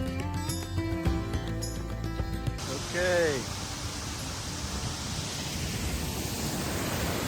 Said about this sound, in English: We're here below the falls now. And it's pretty loud.